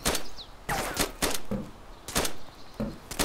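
Sharp gunshots in DayZ Standalone, several separate cracks fired at irregular intervals over a faint background, with no talk.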